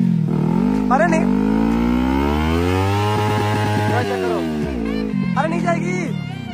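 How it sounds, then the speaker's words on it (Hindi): A Kawasaki Ninja 300 motorcycle engine runs as the bike is ridden into a river, its loud, close drone rising and falling in pitch with revs and sputters, while people shout and talk over it. "ये जा रही है भाई अपनी बाइक"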